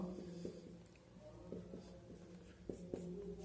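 Marker or chalk writing on a board during a biology lesson, a steady run of soft scratchy strokes with a few sharper taps, close and alone over a faint room hum.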